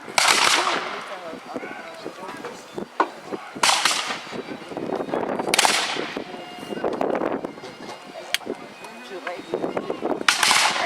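Napoleonic reenactment troops of rifle regiments fire musket volleys at an Old Fort Erie siege reenactment, several sharp cracking bursts spaced a few seconds apart, fairly distant outdoors, with someone talking throughout.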